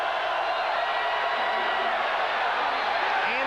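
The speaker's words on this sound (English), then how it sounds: "The crowd starting to get loud here." A large stadium crowd at a 1990 college football game between Washington and Arizona State, a broad steady roar of many voices with occasional whoops rising slightly toward the end.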